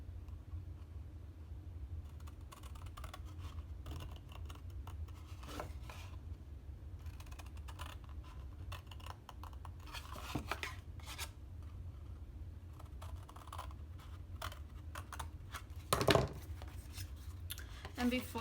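Soft snips and rasping cuts of scissors through paper card stock while making a Halloween pop-up card, faint and intermittent beneath quiet talking.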